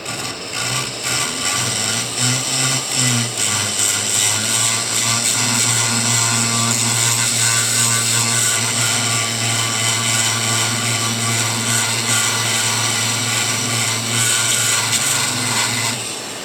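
A rotary sanding barrel runs steadily and loudly while sanding a pycnodont fossil, its motor humming with a constant whir and a gritty rubbing texture throughout, no voices.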